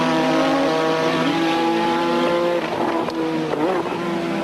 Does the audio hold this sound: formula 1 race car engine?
yes